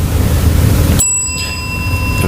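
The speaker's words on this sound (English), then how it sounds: "That was a light bell." A light bell gives a single bright ding that cuts off a noisy background, then its clear metallic tone rings on and slowly fades, heard alone without talk.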